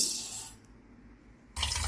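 Tap water runs into a vessel to rinse black kavuni rice, a loud gushing stream that stops briefly and then resumes strongly, heard alone without talk.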